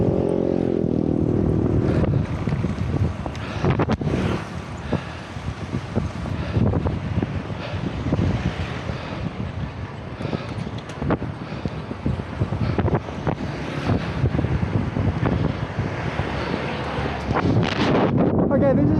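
Strong headwind buffets a cyclist's microphone while riding, a continuous loud low roar and rumble with gusty surges throughout, close and heavy, no voices.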